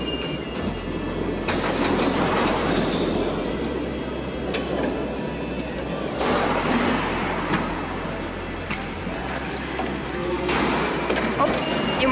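A Paris metro train runs with a loud, continuous low rumble and rattling, its pitch shifting in steps, while people talk over it.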